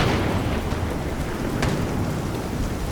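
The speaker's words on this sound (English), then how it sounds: "There's a proper thunderstorm right now." Thunderstorm in The Division 2 video game: steady heavy rain hissing on surfaces with low rolling thunder rumbling underneath and a couple of sharp crackles, no voices.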